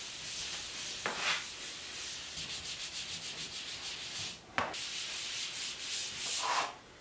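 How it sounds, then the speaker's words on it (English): Soft, steady rubbing of a damp sponge sanding drywall edges, fairly quiet, with a couple of sharper taps or scrapes partway through. "I'm just going in with a damp sponge and just sanding away some of the edges"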